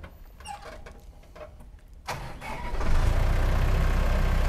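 The engine of a powder-and-water spraying machine used on mango trees cranks and catches, then settles into a loud, steady running drone, alone and close by.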